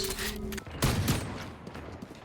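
Gunfire in a video game, a short burst of sharp shots striking mid-way, loud against a quiet background.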